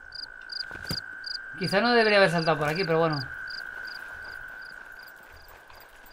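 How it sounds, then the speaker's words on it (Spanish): Noisy crickets chirp in the video game Yonder: The Cloud Catcher Chronicles, a steady run of high, evenly spaced chirps that continues throughout, with a person briefly talking over them partway through. "Hay unos grillos muy ruidosos."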